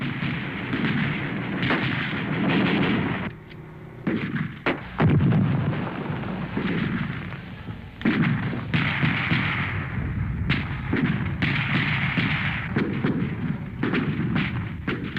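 Sustained gunfire and explosions from Vietnam War combat, where a recoilless rifle struck a carrier, roll on as dense, booming bursts and rapid cracks, with a brief lull partway through before the heavy firing resumes.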